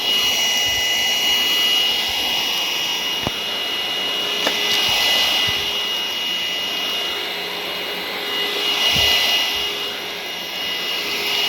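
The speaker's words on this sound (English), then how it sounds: "But it's doing really good even on this thicker carpet." A budget cordless vacuum cleaner runs on thick carpet with a continuous high-pitched whirring drone. It stays steady for the whole stretch, with small shifts as it moves and a few light knocks.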